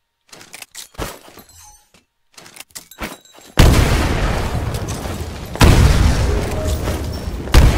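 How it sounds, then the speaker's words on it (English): Grenade explosions in the Titanfall video game, two loud, broad bursts about two seconds apart with long rumbling tails, following a few brief sharper gunfire-like cracks. "Throw a grenade into each of the windows."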